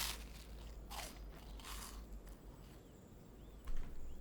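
Someone bites into and chews a greasy, crunchy breakfast food up close, with a few sharp crunches and crackles at irregular intervals over a low background hum.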